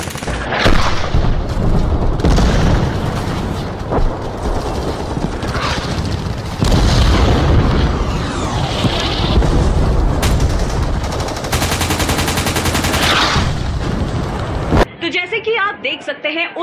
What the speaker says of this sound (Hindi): घुसपैठियों को मजबूती देने के लिए पाकिस्तान की तरफ से heavy firing and artillery shading